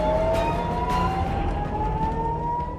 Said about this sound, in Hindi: उधर सीमा के पास बसे इजरायली गांवों में सायरन गूंज उठे, जो लेबनान से आने वाले रॉकेट हमलों की चेतावनी दे रहे थे।